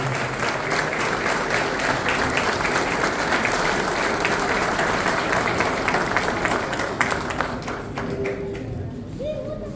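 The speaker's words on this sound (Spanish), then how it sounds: "Y el aplauso fuerte por este reconocimiento." A crowd at a Paraguayan arts and culture event at Palacio Barolo claps loudly and steadily for nearly ten seconds. The dense, continuous applause eases slightly only at the very end.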